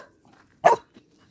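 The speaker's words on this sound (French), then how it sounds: "ça, c'est le chien qui réclame." A dog barks once, a single short, fairly close bark demanding attention, with a faint whimper-like sound just after and otherwise quiet surroundings.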